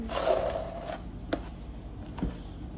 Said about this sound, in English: I'm gonna just rip off a piece and pop it on the side of the lid